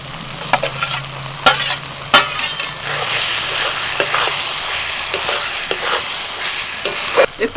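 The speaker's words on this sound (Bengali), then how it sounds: "মশলাটা বেশ ভালো করে কষিয়ে নিয়ে এবার আমি পেঁয়াজ কলি ভাজা দিয়ে দিচ্ছি" Fried onion stalks go into a sizzling masala with tomato in a pan, a close frying hiss under frequent metallic scrapes and clinks as a spatula stirs in irregular strokes.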